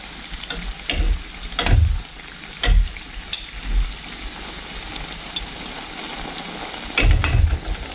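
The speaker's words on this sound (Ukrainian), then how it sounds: "І смажаться вони доволі швидко." Continuous crackling sizzle of kefir pancake batter frying in hot oil, with occasional low thumps and clatters from a pan nearby.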